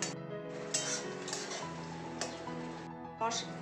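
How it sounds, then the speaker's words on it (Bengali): Onion, garlic, ginger and chilli paste frying and being stirred in a pan for a mutton curry, giving soft scraping stirs and a light sizzle with a few utensil clinks against the pan, close by. "পেঁয়াজ, রসুন, আদা, লঙ্কা বাটা আমি দিয়ে এইভাবে নাড়তে থাকবো"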